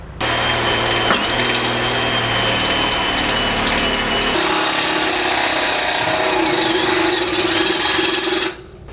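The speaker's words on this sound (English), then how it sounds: "we're going to want to drill it out to at least a 1/2 inch because we need to pass a 1/2 inch bolt through there" A drill bores a 1/2 inch hole through the steel frame of a 2004 Fleetwood motorhome during a helper spring install, a loud steady whine running nearly nine seconds, shifting pitch midway as the bit bites, then stopping abruptly.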